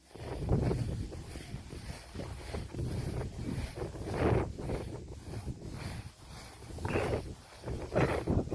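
Strong wind at a clifftop on Kenjalgad fort near Pune and Satara gusts and buffets the microphone in rough, rumbling bursts that rise and fall, with no voices.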